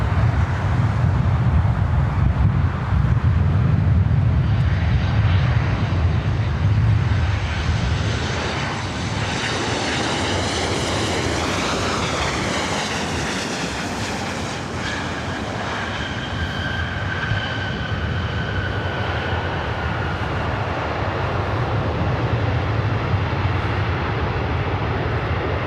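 A Southwest airliner rolls on runway 24 right at LAX at night, a loud engine roar that gradually fades while a whining tone rises and lingers.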